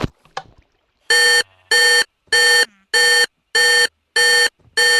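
Electronic beeping from a power station in the Minecraft video game, a run of seven evenly spaced, loud tonal beeps after a few brief clicks at the start.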